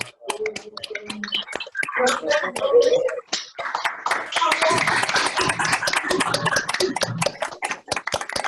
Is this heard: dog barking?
no